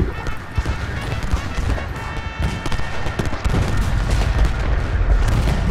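Dense gunfire crackles through a Civil War battle video game, Union troops facing Confederate AI, with overlapping musket volleys and heavy bursts running continuously and growing louder near the end.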